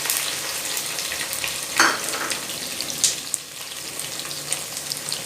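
Chopped onions and curry leaves fry in hot oil for South Indian idli sambar, giving a steady close sizzle with occasional stirring scrapes and clinks of a spoon against the pan.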